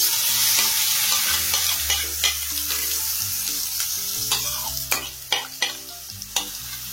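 Lemon pickle masala is stirred into hot sesame oil, giving a steady sizzle. A spoon scrapes and taps the pan in repeated strokes, with the sharp knocks coming closer together toward the end.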